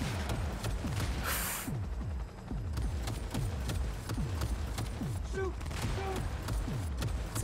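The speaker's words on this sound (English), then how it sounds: "It's a very slow machine gun that we have here." Cyberpunk 2077 slow machine gun fires a long run of evenly spaced, heavy shots with a distinct thudding rhythm, loud and steady throughout the gunfight.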